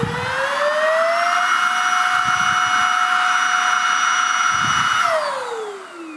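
A Mellif cordless blower and duster with a long nozzle spins up to a loud, steady whine, holds it for several seconds while pushed into a pool toy headrest, then winds down, close and alone.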